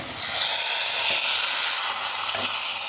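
Panch phoron spices sizzle in hot ghee in a pan, a dense, steady crackling hiss heard up close with occasional soft stirring scrapes and no talk.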